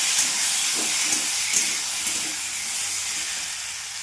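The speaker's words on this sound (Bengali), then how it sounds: "আলুটা ভেজে নিয়েছি, এবার পোস্ত বাটাটা দিয়ে দেবো।" Fried potatoes and poppy seed paste sizzle in a pan with a steady, close, bright hiss, with faint stirring knocks underneath and no talking.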